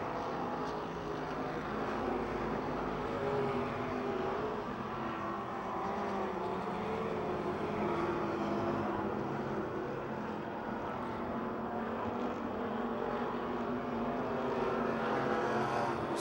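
Race cars lapping the oval at Pennsylvania Motor Speedway near Pittsburgh, a continuous distant engine drone blending into a dense, even roar with no clear pass-by peaks.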